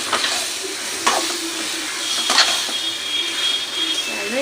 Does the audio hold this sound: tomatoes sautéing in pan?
yes